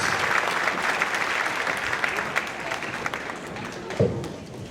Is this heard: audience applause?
yes